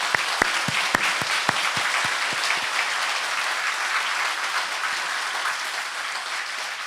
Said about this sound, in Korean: 우리 크게 한번 박수 한번 영광을 돌립니다.